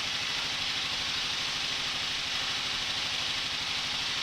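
A Kawasaki KLR650 motorcycle engine idles close by, a steady loud, rough thrum with fast even pulsing throughout and no talk over it.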